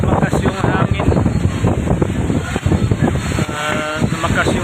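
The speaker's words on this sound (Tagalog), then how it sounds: "Biglang lumakas yung hangin," Strong, gusty wind buffets the microphone at a beach swimming pool resort, a continuous loud roar with people talking over it throughout.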